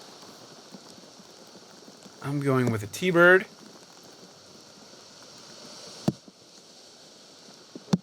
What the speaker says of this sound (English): you can see the rain is not joking around at this time